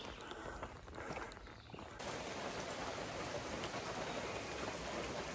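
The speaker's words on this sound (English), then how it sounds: "I don't know if you can hear it, but it's raining pretty steadily." Steady rain falls around a trail shelter on the Appalachian Trail between Harpers Ferry and the Mason-Dixon Line, a soft, even hiss of drops that grows fuller partway through and continues without pause.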